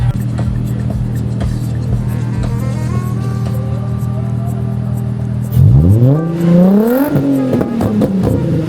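A drift-build car's engine idles with a steady low drone, then revs up hard several times in rising and falling sweeps, loud and close, with no talk.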